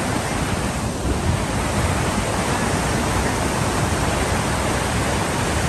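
Niagara Falls roars as a loud, continuous wall of rushing water, steady and unbroken throughout with no voices.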